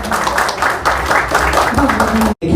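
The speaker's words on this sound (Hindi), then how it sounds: "और एक जोरदार ताली होना चाहिए।" Audience applause at a press conference in Bilaspur, a broad steady wash of clapping hands from a crowd, sustained and fairly loud for a couple of seconds before a brief drop to silence.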